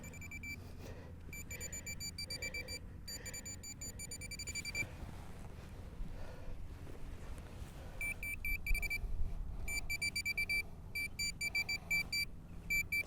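Minelab metal detector with a large search coil, set so sensitive that it signals targets all around a dug hole in a field, gives bursts of repeated high electronic beeps, broken by a quiet gap midway, over outdoor background noise.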